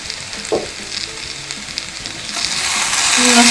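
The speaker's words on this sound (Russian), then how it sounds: "Немножко мешаю." Potatoes with mushrooms fry in a pan with a steady, close sizzle, broken by a few scraping stirs from a utensil near the start. The sizzle grows slightly louder toward the end, with no talking.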